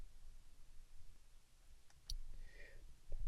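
A single quiet computer mouse click sounds once, short and sharp, against a faint room hum, with no talking around it.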